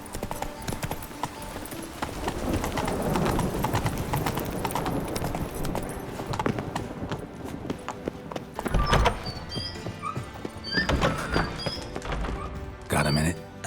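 Horse hooves clip-clop at a gallop in The Witcher 3, a steady rhythmic pounding close by with occasional thuds, while voices talk over the top.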